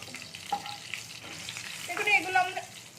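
Crackling sizzle of cumin seeds frying in hot oil, with a few brief stirring scrapes, close and fairly quiet.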